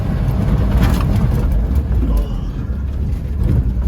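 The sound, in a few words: 1973 Land Rover Series 3 crawling off-road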